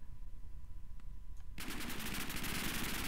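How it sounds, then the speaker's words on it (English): Gunfire in the Minecraft Warfare video game, a shotgun among the weapons, starts abruptly after a quiet moment and continues as a rapid, dense, loud burst of shots. "Oh, the shotgun's not bad."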